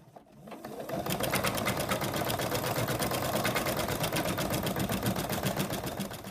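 An embroidery machine stitches the outline of a monkey's ear on stabilizer in a hoop, starting after a brief quiet moment and then running a fast, even, loud stream of needle strokes.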